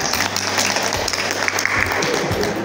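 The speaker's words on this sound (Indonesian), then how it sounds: "Beri tepuk tangan." A group claps together during an Islamic religious lesson after a child recites the pillars of Islam, a dense, steady patter of applause filling the whole moment with a low hum beneath.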